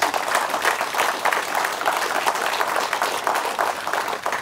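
An audience claps at a West Virginia governor's event at the Wood County Justice Center, producing a dense, even wash of applause from many hands that holds at a constant level with no one speaking over it.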